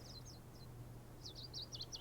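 Small bird chirps in Genshin Impact, a few quick high tweets in two bursts over a steady low game hum, fairly faint with no talking.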